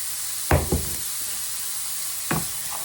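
A vegetable meatball mixture with salt and pink salt is stirred in a pan, giving a few distinct scraping knocks of the utensil against the pan over a low, steady background hiss.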